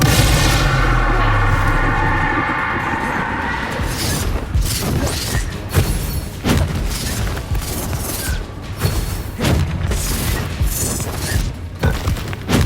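Combat spells such as Bombarda exploding in the video game Hogwarts Legacy, a rumbling magical charge followed by a string of loud booms, crashes and clattering impacts in quick succession.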